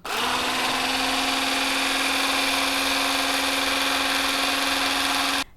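A cordless rechargeable hand blender runs while making lassi from yogurt, salt and water, a loud steady high-pitched motor whine that starts abruptly, holds an even tone for about five seconds and cuts off sharply.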